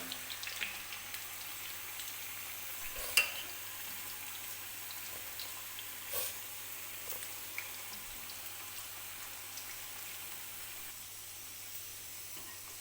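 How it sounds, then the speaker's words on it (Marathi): Bhaji fritters deep-frying in hot oil over medium heat for a Maharashtrian thali, a soft, continuous hissing sizzle with faint scattered pops, quiet and close, no talking. "जितके बसतील तितके भजी मी तेलामध्ये सोडून घेणार आहे. मीडियम आचेवरती हे भजी जे आहेत ते आपल्याला तळून घ्यायचे आहेत"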